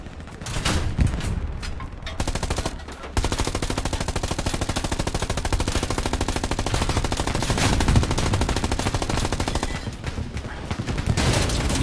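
Sustained, loud gunfire in the World War II shooter Hell Let Loose, with dense automatic bursts and rapid shots hammering almost nonstop for the whole stretch, briefly dipping near the start before surging again.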